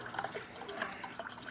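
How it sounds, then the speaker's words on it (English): Water rushes steadily through newly installed household plumbing, a close, continuous gurgling flow with small splashes and no voices. "run a lot of water through here before you're drinking any of it"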